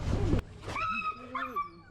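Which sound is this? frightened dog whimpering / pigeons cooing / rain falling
frightened dog whimpering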